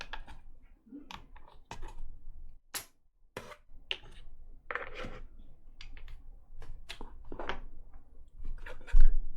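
Nine Men's Morris pieces are set down and slid across the board in a quiet, close-up setting, making soft scattered clicks and taps with pauses between them.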